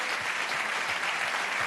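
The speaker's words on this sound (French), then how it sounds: "Applaudissements pour deux grands champions, Rafael Nadal et Richard Gasquet" A studio audience applauds for tennis champions Rafael Nadal and Richard Gasquet at a French sports awards ceremony. The clapping is dense and even, heard alone for a short stretch at a moderate distance.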